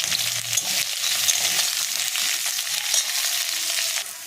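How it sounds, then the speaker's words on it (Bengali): Carrots, beans and other vegetables frying in oil for Bengali shukto, a dense, bright, continuous sizzle up close with faint stirring scrapes underneath. "আর গাজর, এগুলোকেও আমি লাল লাল করে ভেজে নেব।"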